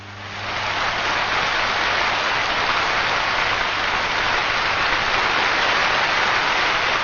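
Broad, hissing applause from a large cricket match crowd swells in and holds steady, heard from a distance with an old, band-limited recording quality.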